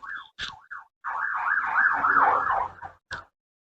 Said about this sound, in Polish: Karetka.